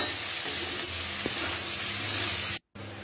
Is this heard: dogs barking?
no